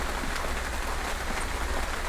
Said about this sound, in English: Yeah, it's really rainy.